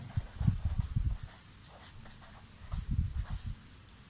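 Pen or chalk writing during a tenth-class maths lesson, with bursts of quick scratchy strokes in two clusters separated by a brief pause, close and moderately loud with no talk.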